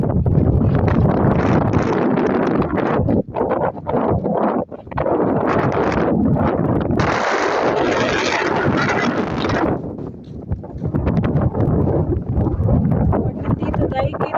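Strong outdoor wind in Jordan buffets the microphone in heavy, roaring gusts that fill the whole clip, easing briefly in places before surging back.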